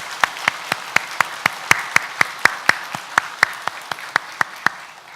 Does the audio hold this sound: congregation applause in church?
yes